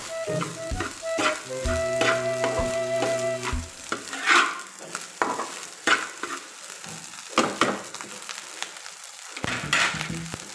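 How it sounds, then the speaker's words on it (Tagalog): Pepper is stirred into frying food in a pan while cooking daing silog, bringing a soft sizzle with scraping stirs and clinks of a utensil against the pan. A brief electronic jingle plays over the first few seconds. "Natin na paminta. Tsaka natin haluin."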